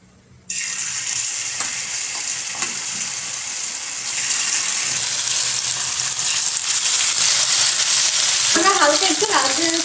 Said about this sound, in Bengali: এবার তুমি চিকেনগুলোকে আস্তে আস্তে তাহলে ভাজতে দাও।